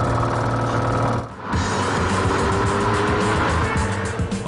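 A Maserati drives hard with a loud, close engine roar that rises and holds, briefly dipping around a gear change before surging again, with some tire noise and no talk.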